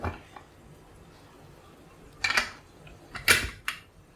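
A pressure cooker holding onions cooked in oil is being closed in a home kitchen, with a few sharp metallic clinks and clatters bunched in the second half after a quiet start.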